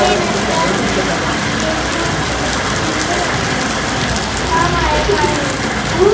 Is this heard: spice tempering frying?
no